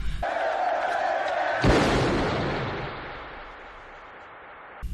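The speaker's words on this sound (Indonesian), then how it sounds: "Cyrus tiba-tiba ditembak oleh Luther. Situasi pun seketika menjadi kacau." A gang gathering in the film The Warriors erupts into chaos when the leader is shot: a crowd murmurs, a sudden loud bang cuts through, and an agitated roar follows, gradually fading.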